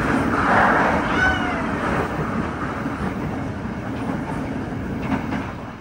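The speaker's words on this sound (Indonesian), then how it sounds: "kereta Pasundan di Kebumen ini tunggu disusul oleh kereta api Argo Wilis dari" The Argo Wilis express from Surabaya Gubeng rolls past while the Pasundan train waits at Kebumen, giving a steady close rushing roar with faint rail squeals and light clatter throughout.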